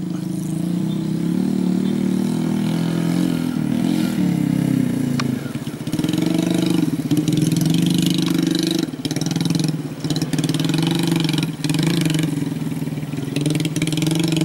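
A trail motorcycle with a Honda Revo engine idles and revs steadily nearby in rice fields, a loud mid-pitched drone with brief dips and surges throughout.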